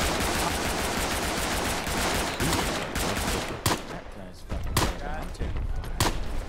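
Rapid gunfire and heavier blasts from artillery and machine guns in the musket-era war game Holdfast: Nations At War, dense and continuous throughout with sharp loud cracks standing out near the end.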